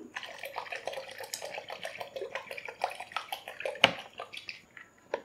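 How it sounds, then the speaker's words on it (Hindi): Plain water poured over freshly strained homemade paneer, a quiet, uneven splashing and trickling with a sharper clink partway through. "और साथ ऊपर हम डालेंगे नॉर्मल पानी।"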